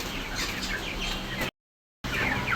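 Many broiler chickens in a poultry farm clucking and chattering together in a busy flock, a dense layered chorus with a short silent gap.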